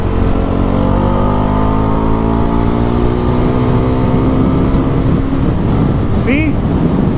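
A Pulsar NS 400Z motorcycle engine revs and accelerates during a ride, climbing through rising gear tones under heavy wind rush, loud and close, with a brief voice near the end.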